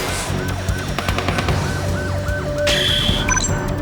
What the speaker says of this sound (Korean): 화재가 확산되기 시작하는 와중에 본격적으로 도로에 진입하는 소방차